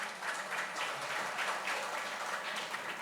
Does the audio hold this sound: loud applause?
yes